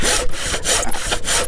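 A hand saw rasps back and forth through wood that grips the blade in the slot, giving loud, close strokes in a quick, uneven rhythm with brief pauses between pushes.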